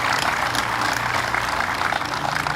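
Dense crowd applause at an outdoor car cruise event, a continuous wash of many hands clapping at fairly even loudness with low rumble beneath, no voices standing out.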